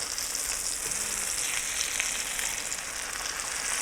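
A flounder fillet for flounder meunière fries in a pan, giving a steady, close, hissing sizzle that stays even throughout, with no voices.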